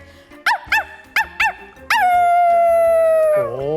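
A person imitates a small dog barking: four quick yappy barks in a row, then a long drawn-out howl that sags in pitch at the end, close and loud with no other talk.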